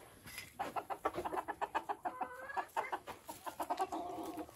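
Chickens in a farm coop, including a rooster and frizzle chicks, cluck and chatter in a steady run of short, close calls with no one talking.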